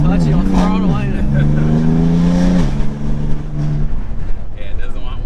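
A BMW F80 M3 with a 500-whp build revs on the throttle, the engine note rising and falling in loud, near sweeps, with talk over the top.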